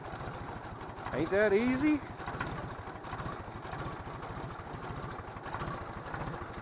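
A tractor engine chugs at a steady, even idle with a rapid regular firing pulse throughout, close by, while someone talks over it.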